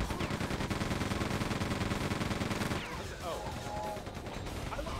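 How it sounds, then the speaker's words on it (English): Rapid enemy gunfire rattles in a sustained burst through a wall in the first-person shooter Quake 2, loud and dense for about three seconds before breaking into scattered shots and effects. "That guy was just shooting through the wall right there"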